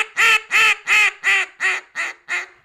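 A Duck Commander Classic duck call blown as a hail call gives seven loud, evenly spaced raspy quacks like a younger hen, each note slightly shorter and softer toward the end, with no other sound.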